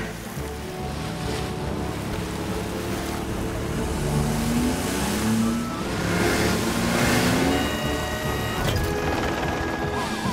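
A cartoon nurse's car heading straight for the beach, its steady engine drone and rolling hum continuing for several seconds under a wash of surf-like noise, with a rising whine near the middle.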